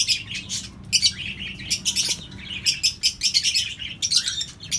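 A red-eyed albino bird chirps in short, high, repeated bursts with brief pauses between them, close and clear over faint low background hum.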